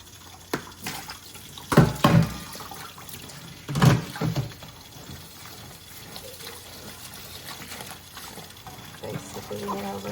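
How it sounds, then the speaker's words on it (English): Cold tap water poured into a plugged kitchen sink over salted cabbage to rinse it for kimchi, with two short splashing bursts early on and quieter trickling and handling after. "I'm just gonna pour this all in to rinse all the salt off."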